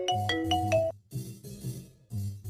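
A mobile phone ringtone for an incoming call, a melodic electronic tune repeating in short phrases with brief gaps, clear and fairly close.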